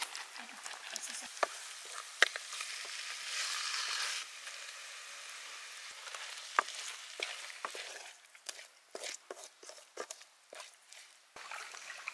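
Chicken pieces fry in a pan for a Potlam chicken recipe, a steady hiss rising briefly louder, broken by scattered clicks and stirring knocks, close and alone.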